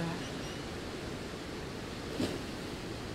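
Ocean waves wash steadily as a continuous broadband hiss of surf, one swell rising slightly near the end, calm and fairly soft throughout.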